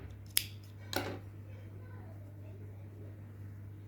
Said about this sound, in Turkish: 2 zincir çekip ipimi kesiyorum.